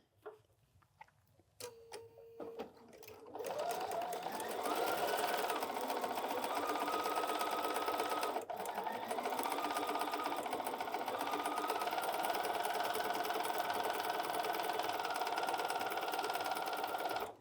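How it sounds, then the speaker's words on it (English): A sewing machine stitches quilt fabric pieces for big flying-geese blocks, starting after a few faint clicks and then running as a steady, close, continuous whir with a brief pause midway. "I'm going to go ahead to the machine and go ahead and sew this"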